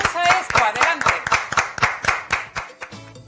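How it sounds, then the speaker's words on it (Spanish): An audience applauds a podiatrist after a talk, with a steady burst of claps close by that thins out toward the end while voices start up. "Un aplauso."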